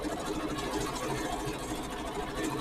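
A Janome embroidery machine quilting a pattern on a quilt runs in a steady, fast mechanical whir and patter, close and continuous, with no talk.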